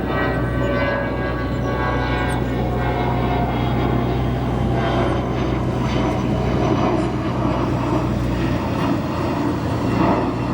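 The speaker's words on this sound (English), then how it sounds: "CRJ 200 here." A CRJ 200 regional jet in retro livery at O'Hare airport gives off a steady, continuous engine rumble and whine, moderately near and unbroken, with no talk over it.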